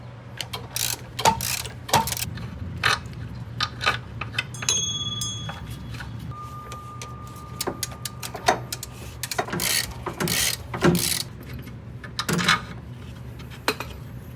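Wrench and socket work on the top shock bolt of a 1967 VW Type 3 Squareback subframe, with close metallic clicks, ratcheting and clinks in irregular bursts over a low background hum.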